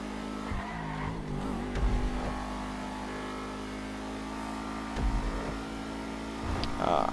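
Dewbauchee Seven70 sports car in GTA Online racing through sharp turns, its steady engine drone running continuously with a few louder surges and skid-like bursts, while a person talks over it.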